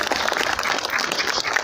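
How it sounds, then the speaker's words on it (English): A crowd at a West Midlands air ambulance demonstration gives a short burst of dense, close applause with no talking over it. "Give a big round of applause."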